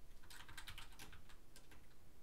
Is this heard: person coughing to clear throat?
no